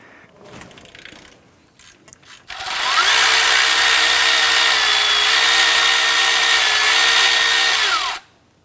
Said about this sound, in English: Use a 15mm socket and a ratchet. I'm gonna go ahead and try and loosen this bolt here.